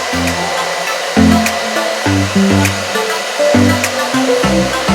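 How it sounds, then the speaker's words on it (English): A hair dryer blows hot air onto a metal eyelash curler, a steady close whooshing roar running the whole time with slight shifts in pitch and loudness as the dryer moves. "I'm gonna use my blower on my lash curler so this metal will get hot."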